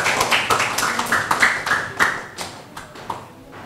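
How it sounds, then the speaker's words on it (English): Scattered audience clapping for a school quiz contestant, a quick run of individual claps that thins out toward the end, close and moderately loud. "Please clap for him."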